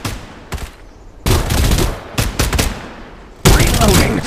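Bursts of automatic gunfire in the online shooter game Farlight 84, loud close volleys in three separate rapid strings with short gaps between them.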